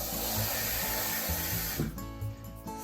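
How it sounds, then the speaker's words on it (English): Tap water gushes into a bowl of rice for rinsing, a loud, steady hiss for almost two seconds that cuts off and leaves a few faint clinks. "Add some water."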